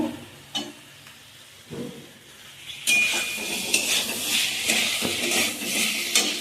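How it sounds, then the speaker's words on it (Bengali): Chopped carrot, pumpkin, papaya and potato tumble into a pot of sambar dal, a few clattering drops and utensil knocks followed by a louder burst of sizzling and stirring in the latter half. "এবার দিয়ে দেবো কেটে রাখা সবজি, গাজর, কুমড়ো, পেঁপে, আলু,"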